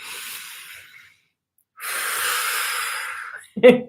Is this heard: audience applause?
no